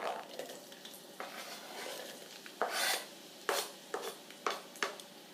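Onions dropped into hot oil in a pan while making fried rice set off a soft sizzle and frying hiss, broken by several sharp scraping and clattering bursts, close and moderately loud.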